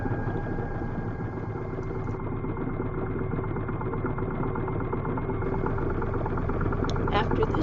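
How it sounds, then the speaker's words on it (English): A sewing machine stitches a quilt block, a steady mechanical running hum continuing unbroken throughout at close range, with a few small clicks near the end. "Set your machine to stitch on each side of the drawn line 1/4 inch away."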